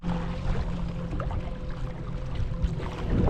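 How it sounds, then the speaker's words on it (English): A small fishing boat's outboard engine running over open water in the Florida Everglades, a steady loud drone mixed with rushing water and splashing against the hull, rising slightly toward the end with no talking. "Please, engine, please get me back in time."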